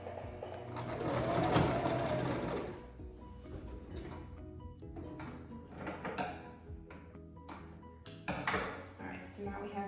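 A sewing machine runs in short bursts, stitching the central seam of a child's superhero fabric mask, its motor whirring and stopping between faint clinks of tools, with a voice speaking quietly over it.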